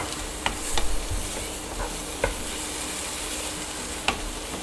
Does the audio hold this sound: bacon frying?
yes